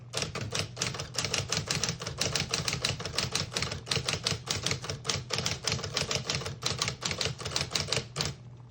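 Rapid, steady clatter of a 1963 Smith-Corona Electric portable typewriter, keystrokes coming close together over a low motor hum, loud and near, with no voices.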